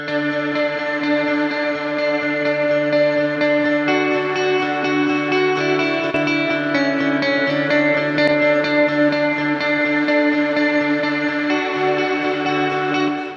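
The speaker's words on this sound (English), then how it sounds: "So you can hear it's got delay, reverb, modulation, everything going on." A sustained lead guitar runs through a free plugin with delay, reverb and modulation, producing a lush, continuous wash of echoing, shimmering tones that keeps going and changes pitch slowly, with no talk.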